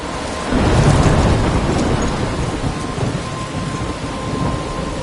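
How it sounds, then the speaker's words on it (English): A thunderstorm in the video game Life is Strange brings a loud, continuous roar of heavy rain with deep rumbling thunder that swells early and then holds steady, dense and close. "I'm trapped in a storm?"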